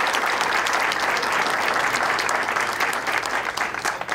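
Town meeting crowd applauding steadily and loudly for about four seconds, a dense continuous wash of clapping with no talk over it.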